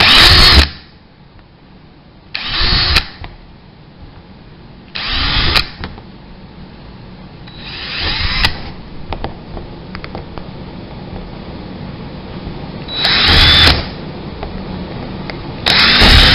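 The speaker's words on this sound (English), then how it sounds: "right now I'm drilling these little dots that I made" A power drill bores holes through an aircraft turtle back template, loud short bursts of whirring roughly every couple of seconds, six in all, separated by quieter handling noise.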